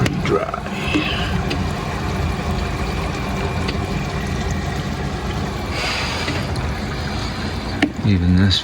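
Water rushing steadily through a leaking bathtub drain pipe and fitting, a constant close hiss and gurgle with a few faint knocks.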